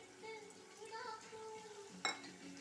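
Spoon stirring a thick tamarind paste with garlic in a pan, with soft scraping and a gentle sizzle, then a sharp metallic clink near the end.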